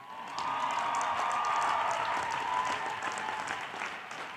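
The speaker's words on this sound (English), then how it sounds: "can we give a big round of applause to the people who funded this entire operation?" Sustained crowd applause at a college graduation ceremony for the College of Science, Orvis School of Nursing and Speech Pathology, honoring the graduates' parents; steady, dense clapping from a large audience that holds evenly for several seconds before tapering slightly.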